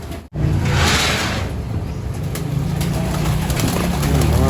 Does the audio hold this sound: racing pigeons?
yes